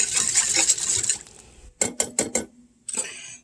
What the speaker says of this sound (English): give it a stir before you mix it in, because the cornstarch likes to sink to the bottom